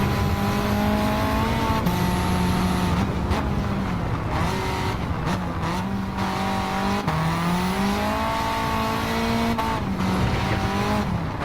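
Race car engine in Gran Turismo, driven on the Nürburgring, revving steadily with shifting pitch through corners and brief tire squeals, loud and continuous with no talking.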